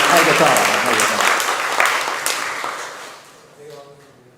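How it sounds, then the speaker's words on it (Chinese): A church congregation at a Palm Sunday service claps to welcome new members. The applause is loud and dense at first, then thins out and fades as it winds down. "我们再一次拍手，来欢迎他们"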